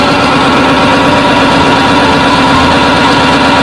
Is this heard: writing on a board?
no